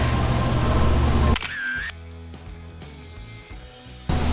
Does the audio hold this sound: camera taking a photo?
yes